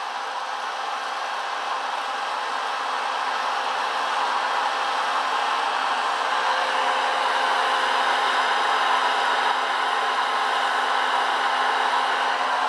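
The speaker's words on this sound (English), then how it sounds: "Popcorn inside gets heated quite rapidly, and you're about to witness the guts of my breakfast being made." A popcorn machine heating kernels for a breakfast batch gives off a steady, close, whooshing hot-air hum that stays even and unbroken for the whole stretch, with no distinct pops standing out.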